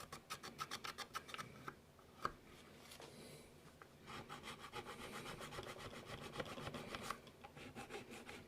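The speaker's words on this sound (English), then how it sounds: "first we should at least finish filing down" Hand file rasping down old filler on a workbench build, a steady series of rhythmic back-and-forth strokes, close and fairly loud, with a few brief pauses and no talking.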